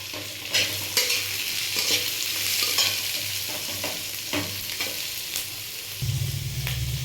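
Sliced onions and capsicum fry in a pan for sweet chilli baby corn, with a constant close sizzle and repeated scraping strokes of a spatula stirring through, and no talk.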